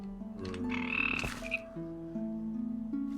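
Frogs from the Ribbits mod in a Minecraft swamp croak in overlapping, close, fairly loud ribbits and throaty calls for a few seconds, with no voices.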